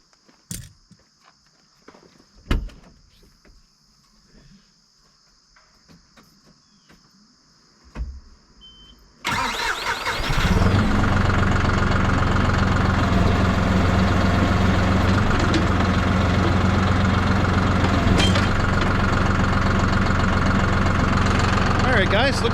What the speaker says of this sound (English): Start the tractor up and give it a try.